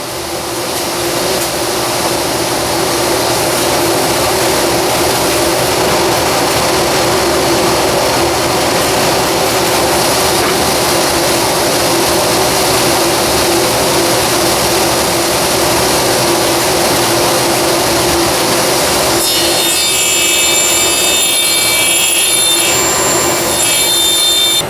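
Table saw running through a walnut side wall panel to cut a notch, a loud, steady whine and roar held throughout with a brighter high-pitched edge near the end, no talking.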